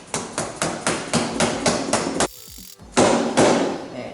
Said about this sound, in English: so use a rubber mallet